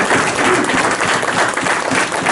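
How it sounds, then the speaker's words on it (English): Audience applause for a presenter at a business talk: dense, steady clapping that fills the whole short moment, close and fairly loud, with no voices heard over it. "Let's give him a great big round of applause."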